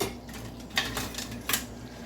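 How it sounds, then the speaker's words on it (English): Cooked pumpkin soup is scooped from the pot into a bowl. Two soft metallic clinks of a ladle against the pot or bowl ring out over a quiet, low background hum. "let us scoop up a bowl"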